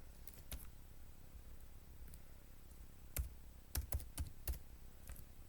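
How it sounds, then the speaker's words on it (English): Keyboard typing while filling in a Microsoft Word mail merge entry: a few scattered clicks, then a quick burst of keystrokes near the end, fairly close and quiet over faint room noise. "So I will come here and type Daphne."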